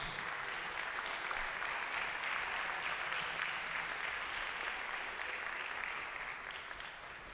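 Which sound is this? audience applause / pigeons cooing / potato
audience applause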